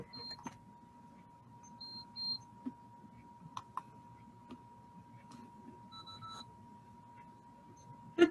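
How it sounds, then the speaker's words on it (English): A timer alarm goes off with short, faint electronic beeps in small clusters, heard quietly over a low hum and scattered clicks in a room. "sorry, my timer went off"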